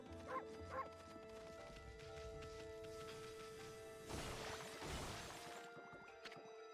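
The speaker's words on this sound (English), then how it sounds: "It's the bark button all along." A cartoon dog character in the video game Okami HD gives two short, sharp barks near the start, followed by game sound effects and clatter, faint overall.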